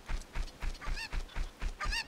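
A cucco chicken from the video game Zelda: Ocarina of Time 3D clucks in a quick series of short, evenly spaced honking calls, close and fairly loud, with no talking over it.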